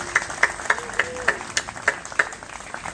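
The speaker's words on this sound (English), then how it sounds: "how about a round of applause for Laura?" A round of applause for Laura at the closing remarks of a Tri-Count-Teas rally, with scattered, fairly sparse hand claps that fade out over a few seconds.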